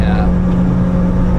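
A Ford Fiesta ST150 engine drones steadily at high revs while lapping the Nürburgring, heard loud and close from inside the car as a constant buzzing roar, with a voice talking over it.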